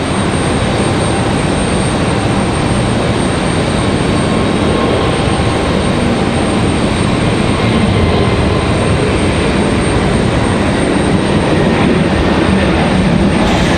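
Steady, loud broadband roar of a Frontier airliner at Raleigh-Durham airport under stormy skies, a continuous engine wash heard from the ground without rising or fading over the whole stretch.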